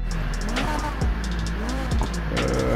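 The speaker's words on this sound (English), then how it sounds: "It has a more meaty V8 sound for the most part." A BMW M3 E46 fitted with a V8 engine in the Need for Speed Heat racing game revs steadily and loudly, its pitch rising and falling across several throttle blips.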